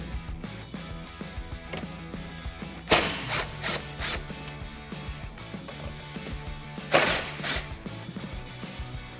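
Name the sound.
T40 Torx socket removing Jeep Wrangler JL cowl bolts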